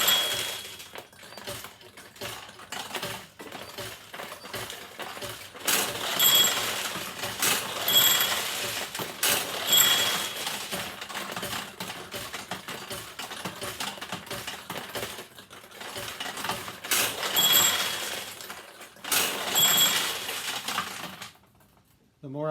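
A 1974 Nishijin Model B pachinko machine in play, with a constant busy rattle of steel balls clicking and cascading through pins, punctuated by bright metallic chimes and bursts of louder clattering.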